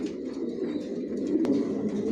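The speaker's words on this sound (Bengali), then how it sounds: "টপ কোয়ালিটির কবুতর পালি।" Racing pigeons, including silver racers, coo softly in a loft, a low rolling murmur repeating close by with a brief sharp click partway through and no talk.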